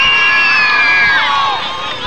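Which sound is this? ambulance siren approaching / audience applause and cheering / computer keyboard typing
audience applause and cheering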